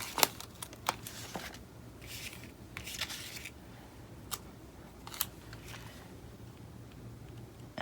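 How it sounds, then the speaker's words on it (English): Scissors snipping through planner stickers: quiet, scattered crisp clicks and short shearing cuts at an irregular pace over a soft room background, with no talking. "I'm going to try to be strategic and cut so I can turn it into 2 stickers"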